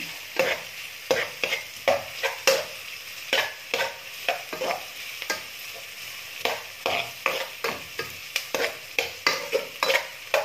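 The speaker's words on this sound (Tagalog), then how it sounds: "ang lagi natin gagamitin panggisa is olive oil. Yan. Para guys. So, halo-haloin natin para siya mag-kulay brown." Onions sautéing in olive oil in a pan for chicken tinola with molokheiya leaves, stirred in a steady rhythm of scraping strokes over a constant close sizzle, with no talking.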